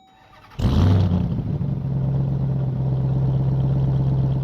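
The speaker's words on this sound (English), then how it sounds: "Gotta love that supercharged V8 rumble." A supercharged V8 in a 2027 RAM 1500 TRX SRT pickup cranks and fires abruptly, then settles into a loud, steady, deep idle rumble close by, with no talking.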